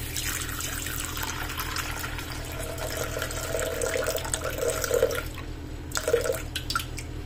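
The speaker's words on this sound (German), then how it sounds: "Ich gebe hier jetzt 400 Gramm lauwarmes Wasser in den" Lukewarm water poured into a Thermomix-style mixing bowl while making spelt bread, a steady trickling stream running throughout with a few brief splashy bursts near the end, close and moderately quiet.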